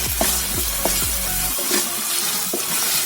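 Sizzling of tomatoes frying in a pan, with clinks of a utensil stirring during the first half, then a steady hiss alone.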